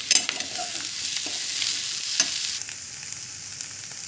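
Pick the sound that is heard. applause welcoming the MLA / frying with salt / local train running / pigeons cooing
frying with salt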